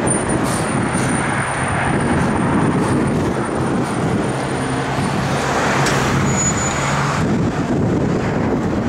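A 1969 Chevrolet Camaro SS with a big-block 396, Comp cam and Edelbrock intake runs steadily, a loud continuous rumble held close for the whole stretch without talk.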